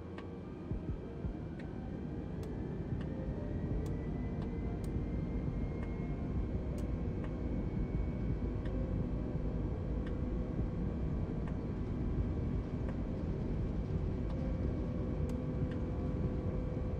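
Twin jet engines of an A32NX airliner in Microsoft Flight Simulator 2020 run up to about half throttle, a steady loud low rumble and hum with faint rising whine, sustained and unbroken throughout.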